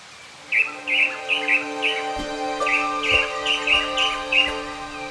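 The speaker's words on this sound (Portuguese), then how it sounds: "avistamos um tangará dançador, que vocalizava com insistência." A blue manakin calls repeatedly in Serra dos Órgãos National Park, Brazil, a series of bright, short whistled notes in an insistent rhythm, fairly close, over a faint steady background hum.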